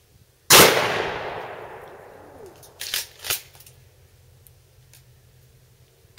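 A single loud blast from an H&R pump-action shotgun fired at a steel propane can, with a sharp report that decays over about two seconds, followed by two fainter cracks or rattles.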